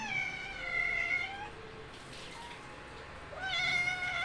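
A cat meows twice, a long whiny cry followed by a pause and another meow, fairly close against a quiet room.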